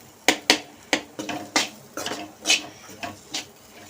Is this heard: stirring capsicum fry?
yes